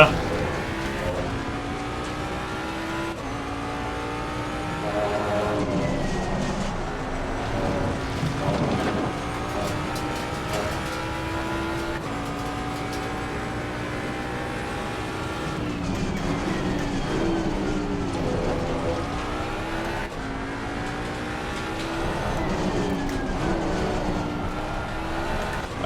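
A race car engine in the Assetto Corsa Competizione sim racing game revs loudly and steadily, with repeated rising pitch sweeps and sudden drops as gears shift up and down throughout, with tire and track noise underneath.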